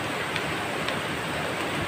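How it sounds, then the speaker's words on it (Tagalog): Heavy rain pours down in a steady, dense hiss with no pauses, close and loud, with no voices over it. "malakas yung ulan"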